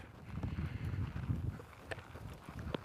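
A horse's hooves clop on the ground during a horsemanship session, giving a soft, low, steady rhythmic thudding nearby with a few sharper knocks toward the end.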